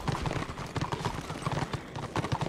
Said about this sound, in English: Your tank has a big black horse.